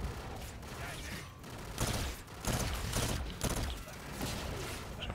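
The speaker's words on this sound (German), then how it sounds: "es wird schon wieder geschossen." Bursts of gunfire from the video game Call of Duty Infinite Warfare, several loud volleys of rapid shots in clusters across the stretch, with mechanical clatter between them and no talking.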